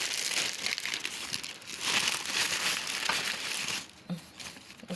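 Plastic bags holding Ramadan decorations crinkle and rustle loudly and continuously up close, with bursts of crumpling and no talk.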